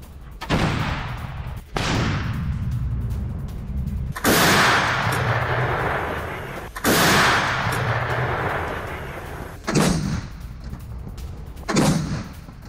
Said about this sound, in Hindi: रूस की 152mm की गन हायसिंथ बी का एक्शन का वीडियो सामने आया। यूक्रेनी ठिकानों पर गोली बरसा रही है रूसी गन।